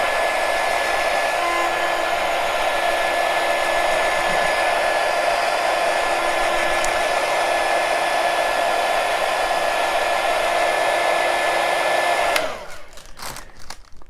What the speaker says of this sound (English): I have my air dry gun, my hot gun here. I'm just gonna dry it.